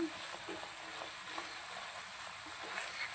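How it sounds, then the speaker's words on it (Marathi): Masala sautéing in oil for a mackerel fish curry, a soft, fairly quiet sizzle with light stirring scrapes and small crackles, without speech. "तेलामध्ये परतून घ्यायचं आहे, छान असं तेल सुटेपर्यंत."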